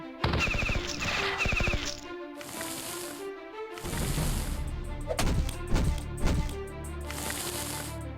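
Gunfire and explosions in the video game Battle Nations during a raid, with rapid bursts of shots, crashes and blasts that come and go over several seconds at a fairly loud, close level.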